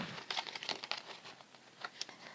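A tarot card deck on card stock is shuffled close by, a quiet run of crisp riffling and crinkly flicks in uneven bursts.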